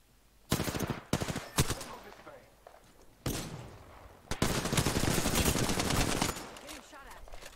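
Gunfire in the Apex Legends video game, with bursts of automatic fire and sharp single shots that come in close, loud clusters separated by brief gaps, followed by a longer sustained volley.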